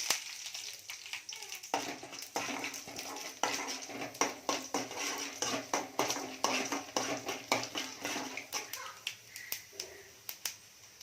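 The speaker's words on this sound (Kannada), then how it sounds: "ಇದಕ್ಕೆ ನಾನು ಸ್ವಲ್ಪ ಸಾಸಿವೆ, ಕಡಲೆಬೇಳೆ, ಉದ್ದಿನಬೇಳೆ ಹಾಕಿ ಸ್ವಲ್ಪ ರೋಸ್ಟ್ ಮಾಡ್ಕೊಳ್ಳಿ" Mustard seeds, chana dal and urad dal roasting in a pan, sharp irregular pops and crackles of spluttering seeds, close and fairly quiet, thickening in the middle and thinning out toward the end.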